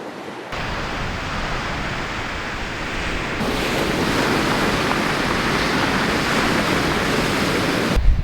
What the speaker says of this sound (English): we're trying to find somewhere out of the wind